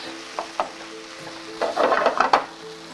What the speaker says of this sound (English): we're going to mix all this together, incorporate all the flavors